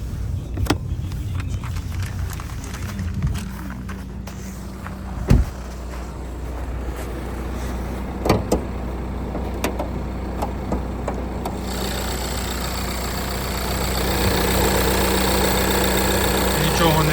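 A 2019 Renault Grand Scenic with a 1.7 diesel engine and automatic gearbox idles with a steady low hum and faint ticking, getting louder near the end, while a person talks over it.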